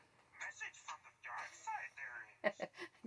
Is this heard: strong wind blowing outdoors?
no